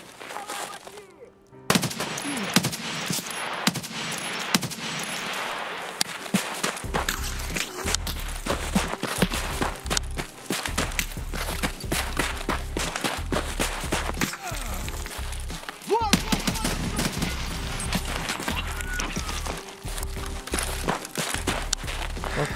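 Rapid gunfire bursts from Escape from Tarkov, a tactical shooter game, with repeated automatic volleys and single shots cracking loudly over a steady ambient bed, interspersed with footsteps and movement noise throughout.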